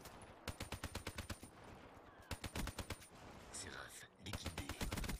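Rapid bursts of automatic gunfire in a first-person shooter match, several rhythmic volleys of sharp shots separated by brief pauses, fairly close and distinct.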